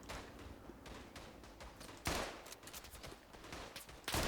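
Gunfire in the World War I shooter Tannenberg: a distant, muffled rattle of rifle and machine-gun fire that continues steadily, with two sharper, louder bursts standing out near the middle and at the end.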